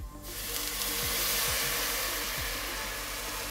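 Onions, ginger and garlic frying in a soup pot, a loud dense continuous hiss and sizzle that swells in quickly and holds steady, with faint low scraping taps of a utensil underneath.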